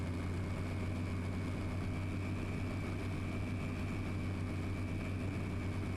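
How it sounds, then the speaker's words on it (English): A bin lorry collecting rubbish outside gives a steady, low engine drone that holds evenly throughout, muffled as if heard from indoors. "There's the binman outside, or what the noise was."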